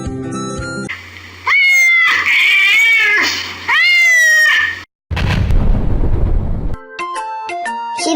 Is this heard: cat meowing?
yes